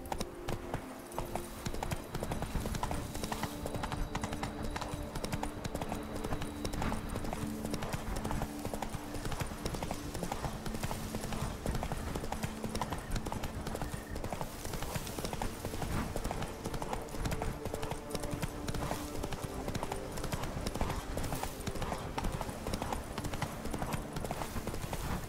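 Horse hoofbeats gallop steadily in the video game Witcher 3: Blood and Wine, a dense, continuous clip-clop rhythm under game ambience with an occasional brief voice.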